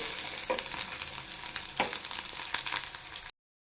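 Four dry red chillies and four Byadgi chillies fry in hot oil, making a loud, steady close sizzle with a few stirring scrapes before it cuts off abruptly.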